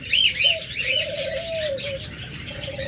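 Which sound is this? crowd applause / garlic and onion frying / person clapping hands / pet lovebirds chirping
pet lovebirds chirping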